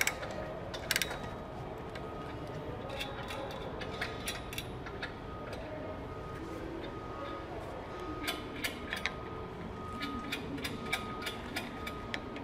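A ratchet tightens set screws and lock nuts on an MHS secondary conveyor belt cleaner, irregular metallic clicks and short bursts over constant machinery drone, moderately close with no clear speech.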